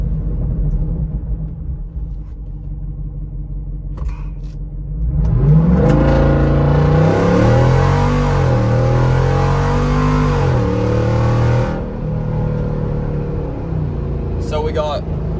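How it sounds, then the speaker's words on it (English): A Jeep Rubicon 392 V8 on 38-inch tires launches hard from a standstill, its low rumble climbing into a loud rising roar through several gear changes before easing off, close and dominant throughout. "I'm just gonna pull out here on the road and give it a little rip"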